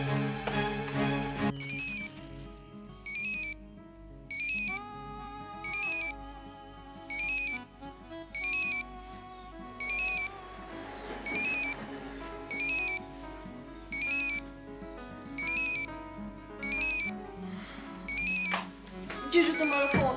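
A phone ringtone plays in repeated bursts at a regular rhythm, loud and close, over a musical background.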